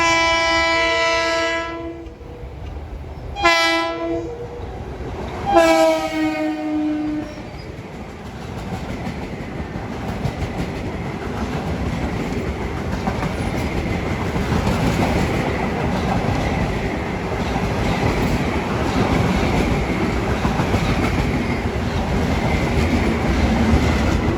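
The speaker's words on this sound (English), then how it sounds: "Approaching at 3:57 is train 2057." An M3 commuter train, Ronkonkoma to New York, approaches New Hyde Park station on the Long Island Rail Road, sounding several loud horn blasts before its rumbling, clattering passage builds steadily and continues alone.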